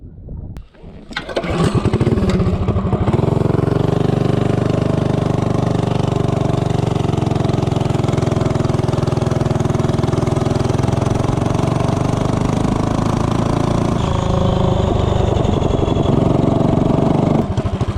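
A Tillotson 212 small engine with a 5-inch long intake and 24 mm flat-slide carburetor starts up, then roars loud and steady at high revs from 0 to 30, close and alone without talk.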